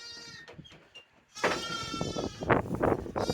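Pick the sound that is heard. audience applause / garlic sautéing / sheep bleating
sheep bleating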